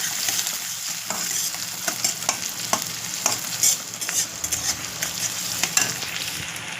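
Chopped onions fry in a pan until reddish, a continuous close sizzle with scattered clicks and scrapes from stirring.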